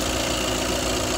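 A car's 2.0 litre four-cylinder engine runs at a steady idle, loud and close with an even mechanical drone and no voices over it.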